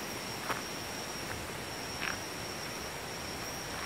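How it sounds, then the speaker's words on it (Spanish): Crickets chirp in a steady high drone against a quiet night backdrop, with a couple of faint rustles. "díganme en los comentarios si escuchan los grillos cantar"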